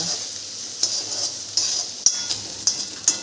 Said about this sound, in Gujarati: ડુંગળી આપણે આ રીતે સાતરવાની છે એનો કલર બદલાય ત્યાં સુધી આપણે ડુંગળીને સાતરવાની